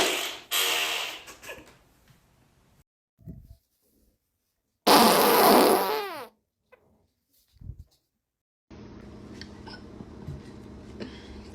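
A woman's fart, loud and close, repeated in several bursts with gaps of near silence between them, the last burst followed by a steady background noise.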